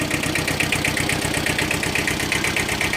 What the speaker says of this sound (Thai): คันนี้ 15 แรงม้าเครื่องยนต์2สูบครับ